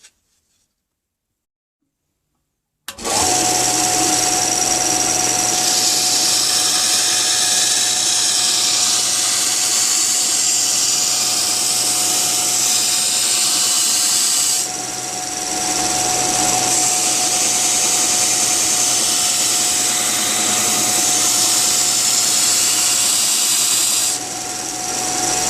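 An Axminster AC200BDS belt and disc sander starts after a few seconds of silence and runs continuously, a loud steady whirring drone with a constant hum, dipping slightly twice before running on.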